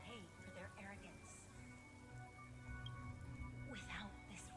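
Rain falls steadily in a video game, a soft, continuous patter running beneath a voice that speaks throughout.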